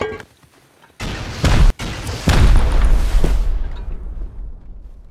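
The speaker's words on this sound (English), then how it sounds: "Like with the rocket, it destroyed the turret." Rocket explosions destroying a turret in the survival game Rust: after a quiet start, a sudden heavy blast, a brief cut, then a second booming explosion that rumbles and slowly fades, loud and close.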